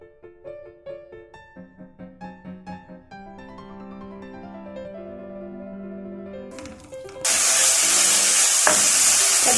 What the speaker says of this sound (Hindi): अदरक लहसुन को मैंने अच्छे से भून लिया है